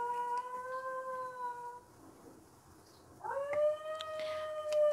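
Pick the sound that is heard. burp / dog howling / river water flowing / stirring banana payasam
dog howling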